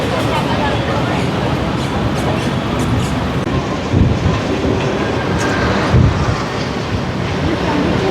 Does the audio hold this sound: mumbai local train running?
yes